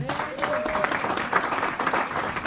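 A church congregation applauds and acclaims the Lord, a busy mix of clapping and raised voices that swells and dips slightly throughout.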